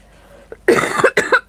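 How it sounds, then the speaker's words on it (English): A run of harsh coughs, loud and close, coming in three quick bursts after a faint throat sound. "I think the cough is finally broken."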